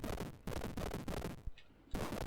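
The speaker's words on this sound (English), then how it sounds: "They explode with the same noise as firing bolts." Bolts fire in the video game Catacomb Armageddon as a series of sharp, punchy bursts in quick succession, each with a short crackling tail, then a brief gap before one more shot.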